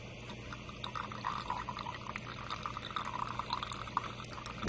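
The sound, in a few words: draining water from cooked peas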